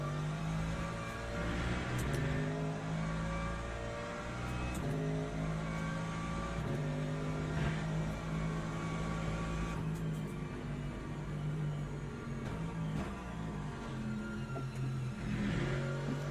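Ferrari race car engine in Le Mans Ultimate, sustained and moderately loud, rising and falling with repeated gear changes and throttle lifts over a long stretch of driving.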